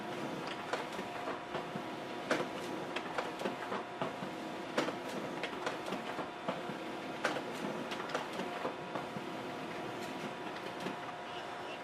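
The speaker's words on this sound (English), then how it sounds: "we'll get a close-up view of the printer and we'll print out something" A Canon i550 inkjet printer prints flyers with a continuous run of rapid mechanical clicking and whirring. The rattle is close and steady, with small sharp ticks throughout.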